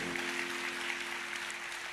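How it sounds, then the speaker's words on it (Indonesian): A church congregation applauds during a sermon, a dense continuous wash of clapping with a steady hum underneath, sustained and even throughout. "Ayo tepuk tangannya sekali lagi yang paling meriah buat Tuhan."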